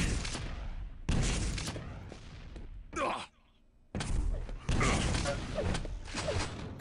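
Weapon fire in the Quake Live arena shooter, including a rocket blast: dense, loud bursts of gunfire and explosions in several clusters, broken by a brief near-silent gap before the shooting resumes.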